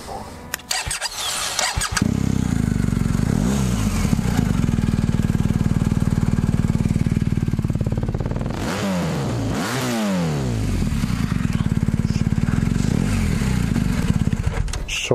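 A BMW R 1250 GS motorcycle cranks and fires up, settles into a close, steady idle, then gives a couple of sharp throttle blips partway through before returning to idle.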